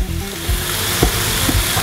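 Turkey escalope sizzles steadily in a hot pan, a dense crackling fry with a few soft knocks from utensils.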